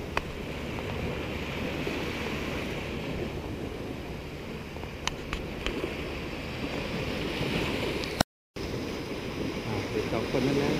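Sea waves rolling in at a beachside resort in Pattaya, a steady wash of surf mixed with wind buffeting the microphone, continuous and moderately loud, broken by a short dropout near the end.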